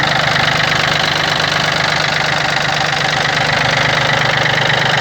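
A Yanmar AF-22 mini tractor engine idles steadily and evenly, a loud close diesel rumble with a fine rapid knocking pulse and no talk over it.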